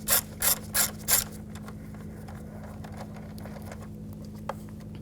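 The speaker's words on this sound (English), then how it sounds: "Using a 5mm hex socket, I'm going to take this screw, loosen this up" A ratchet with a 5mm hex socket loosening a screw on a 2011-2018 Volkswagen Jetta 2.0L gives four quick, close clicking bursts, then falls quiet to a low background hum.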